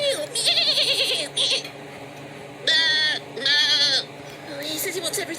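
A goat character in a children's TV show bleats in several loud, wavering cries, with short pauses between them and voices talking around them.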